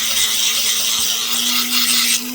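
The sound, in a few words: Dremel rotary tool cutting rough opal picture stone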